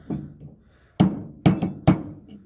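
Steel hammer blows on a 16mm Volkswagen driveshaft bolt in a metal fabrication shop: three sharp, ringing metallic strikes close together after a softer first tap, each with a short clangy decay.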